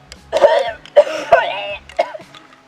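A person coughs several times in quick harsh bursts, close and loud, with a throat-clearing rasp near the end.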